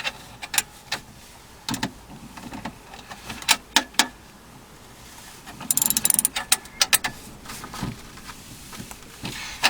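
A ratchet wrench tightening a bolt on the window regulator of a 2002 Dodge Caravan, with bursts of quick clicking ratchet strokes and metallic knocks, close and irregular, with one dense rapid run midway.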